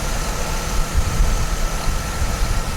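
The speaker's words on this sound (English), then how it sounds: "That power pump pulley right there seems like it's making a little bit of noise." A Chevy Trailblazer engine runs steadily up close, a loud even rumble with belt-driven whir where the power steering pump pulley is making noise.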